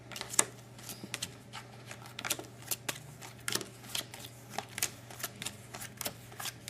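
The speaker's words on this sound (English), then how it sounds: "So, we'll run through the cards once more." Playing cards being run through one by one in the hands during a magic card trick, a quiet steady patter of soft flicks and snaps at an even pace, close up with no talk.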